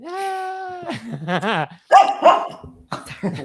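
A dog in a room gives a drawn-out whine, then yips and short barks in quick bursts, loud and close, with people talking around it.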